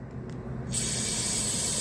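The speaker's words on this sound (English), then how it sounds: "we're going to spray it down through here again" Carburetor cleaner sprays in a steady, loud hiss through the passages of a Honda GCV carburetor, starting abruptly partway through and holding without any voices.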